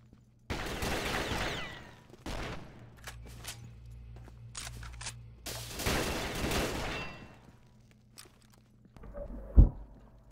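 Shotgun blasts in a first-person shooter game, several loud broadband bursts spread unevenly across the clip, separated by quieter stretches of game ambience and faint footstep-like clicks.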